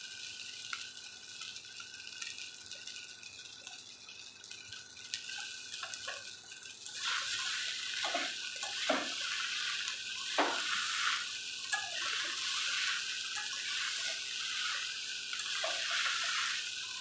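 Butter hits a hot pan for gondhoraj pasta: a faint quiet stretch with light stirring gives way at about the midpoint to a bright, steady sizzle, broken by scraping stirs.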